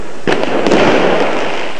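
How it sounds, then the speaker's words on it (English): Fireworks set off by protesters during street unrest in Turkey crackle and bang loudly: a sharp burst, then a dense, roaring spray of crackling that fills the moment. "The protesters fought back with rocks and fireworks."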